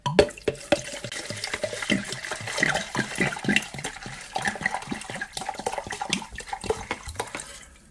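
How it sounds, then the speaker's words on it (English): Cheap vodka being poured into a 500 ml bottle over juniper berries for a homemade gin kit, a steady splashing, gurgling liquid stream close up that runs for several seconds and trails off at the end. "And then top it up with our vodka."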